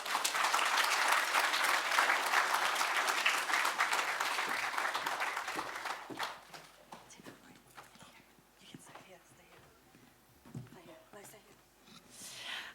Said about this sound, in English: Give it another big round of applause for Dallas